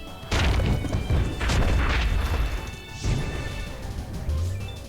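A Dust Cannon attack effect in the Pokémon TCG Online video game bursts out as a series of loud crashing, booming impacts, several heavy hits close together followed by a trailing rumble.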